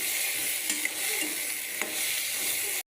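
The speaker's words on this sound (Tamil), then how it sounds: "இப்போ இதை நாங்கள் நெத்தலியை போட்டு கிண்டுவோம்." Anchovies frying in a pan with turkey berries and onions, stirred steadily: a dense, loud sizzle runs throughout, with a few soft scraping strokes from the spoon, then it stops abruptly near the end.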